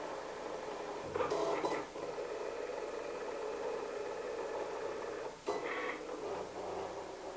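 A Cricut cutting machine works through a design with a steady low mechanical whir and hum, broken by a couple of brief louder carriage movements, fairly quiet and close, with no one speaking.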